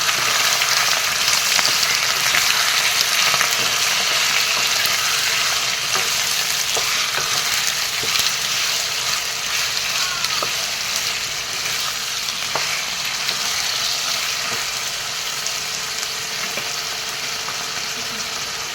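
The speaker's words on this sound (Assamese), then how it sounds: "মাংসখিনি এনেদৰে অলপ কৰি ইফালৰ পৰা লৰাই যাম।" Chicken pieces fry hard in a pan for a dry chicken fry, giving a loud, continuous sizzle while they are stirred and turned, with occasional light scrapes and clicks.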